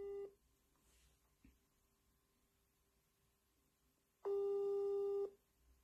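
A phone call tone sounds over a quiet line: one short beep at the start, then a single loud steady tone lasting about a second, with no voice.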